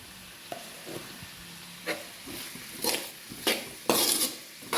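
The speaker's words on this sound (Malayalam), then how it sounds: "ഇനി എല്ലാം കൂടി ഒന്ന് വഴറ്റിയെടുക്കാം" Chicken roast masala sautéed in a pan, a spoon scraping and clanking against the metal in separate strokes over a steady close sizzle, with no talking.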